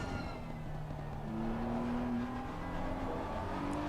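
Racing simulator game car engine: a steady droning tone that slowly rises in pitch as the car accelerates, constant and fairly loud, with no talking.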